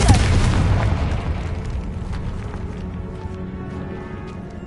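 A Confringo fire spell goes off in a video game with a deep, booming blast that hits at once and then fades into a long rumbling decay, with no voices over it.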